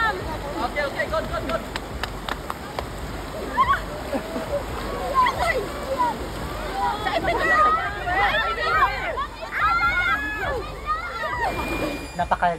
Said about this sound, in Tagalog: Isang nagngangalit na ilog.